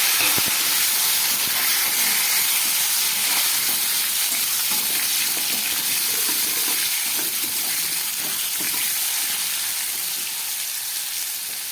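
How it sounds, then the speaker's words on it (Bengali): Ridge gourd, drumstick and potato frying in tempered oil, with a strong continuous hiss and sizzle right after they go into the pan, slowly easing off toward the end. "এবার আমি কেটে রাখা ঝিঙে, সজনে ডাঁটা আর আলুটা দিয়ে দিচ্ছি।"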